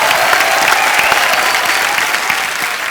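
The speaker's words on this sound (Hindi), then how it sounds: "जोरदार तालियां।" Loud, dense applause from an audience, sustained throughout with steady clapping.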